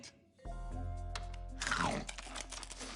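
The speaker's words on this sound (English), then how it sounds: "that was the sound of him chewing it" A cartoon character crunches on a urinal cake, one loud crisp crunching bite with crinkly cracking texture over a low background hum and faint music.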